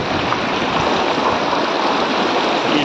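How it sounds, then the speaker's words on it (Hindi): A river in Uttarakhand, swollen after a night of rain, rushes past a footbridge as a steady, loud, broadband roar of flowing water with no pauses. "ये पानी देखो, ये पानी भी बहुत बढ़ चुका है"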